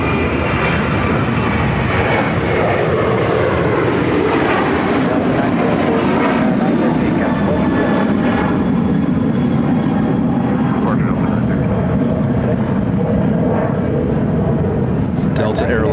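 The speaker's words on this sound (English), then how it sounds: "Delta Airlines flight 913 headed to Seattle on a 737-800." A Delta Airlines Boeing 737-800 jet airliner on the move at Phoenix Sky Harbor, bound for Seattle, giving a steady, loud engine roar that carries through the whole stretch, with people talking over it.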